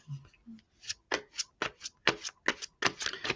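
Tarot cards riffled and bridged in a quick series of crisp, close, papery shuffling bursts, each brief and fairly loud, with no talking.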